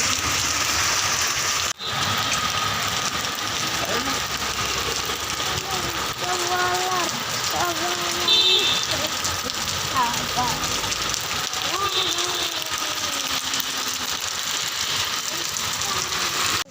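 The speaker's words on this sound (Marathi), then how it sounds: "बघा किती पाऊस चालू आहे" Steady heavy rain hisses throughout, a dense continuous wash of noise, with a voice speaking intermittently over it.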